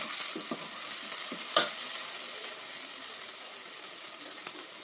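Sliced big onions sautéing in a pan with ginger garlic paste for spicy crab kuzhambu, a soft steady sizzle with a few light stirring knocks and one sharper clatter early on.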